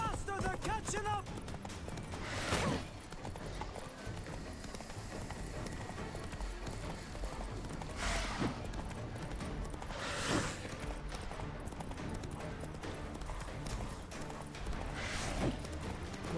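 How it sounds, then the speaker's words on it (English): Galloping horse hooves in Witcher 3, a steady clip-clop rhythm running through the whole stretch at moderate loudness, mixed with game music and bursts of noise, while a voice talks over it. "Ride, Ciri! Don't look back"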